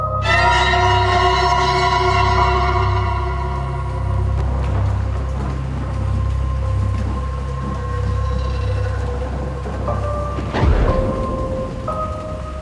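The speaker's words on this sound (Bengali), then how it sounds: "বাইরে বাজ পড়ার একটা বিকট শব্দে কেঁপে উঠল পুরো চায়ের দোকান" A deep thunder rumble rolls on, loud and steady, standing alone as a storm effect with a sharp crack near the end and no voices.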